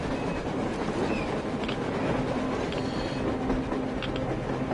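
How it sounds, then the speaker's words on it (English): A train rolls past on the surface in the video game Metro Exodus, a steady, dense rumble with faint metallic clacks and squeals layered over it, loud and unbroken, with no voices. "A train! A damn train on the surface!"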